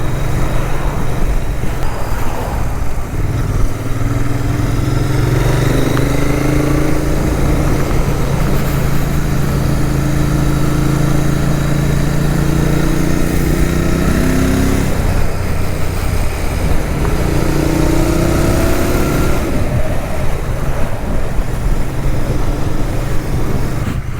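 A Royal Enfield Continental GT motorcycle fitted with Stage 1 engine modifications runs steadily throughout, its engine note droning loud and close with rising and falling pitch as it accelerates and eases off while riding, with no talking.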